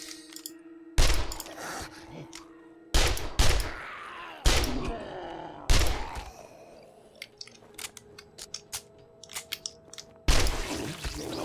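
A close-quarters gun fires in 7 Days to Die: five heavy, booming single shots spaced a second or two apart, each with a ringing tail, amid lighter clicks and clatter.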